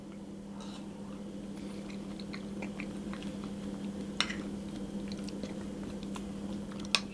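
Close, soft chewing of a moist steamed apple sponge pudding spiced with cinnamon and ginger, with faint wet mouth sounds over a steady low hum and two small sharp clicks near the end.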